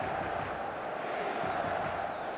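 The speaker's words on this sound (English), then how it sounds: "The stadium is full of noise and energy." A full football stadium on match day roars as a dense, steady wall of crowd noise, distant and unbroken with no clear single voices.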